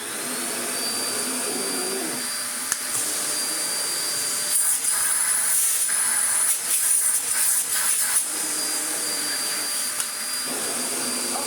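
A Vacmaster Captura vacuum cleaner, a budget household model, runs with a loud, steady rushing hiss and high whine, its airflow tone wavering midway as the nozzle shifts, close and alone without talk.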